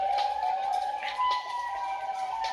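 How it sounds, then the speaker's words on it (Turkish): A thin electronic siren tone from an SCP horror video game featuring Siren Head wails steadily at a moderate level, wavering slightly in pitch, with soft bursts of background noise around it. "yine siren sesleri başladı bana"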